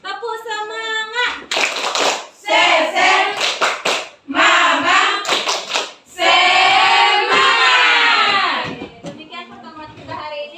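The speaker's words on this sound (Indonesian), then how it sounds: "Tepuk semangat." A school class claps together in a rhythmic spirit clap, with sharp bursts of many hands in patterned groups and children's voices calling between the clapping phrases.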